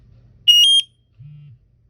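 A Dräger X-am 2800 gas detector powering on gives one short, shrill electronic alarm beep, followed by a brief low buzz, with quiet on both sides.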